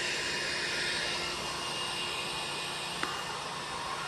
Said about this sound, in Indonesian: Kita keringkan dulu dengan hot gun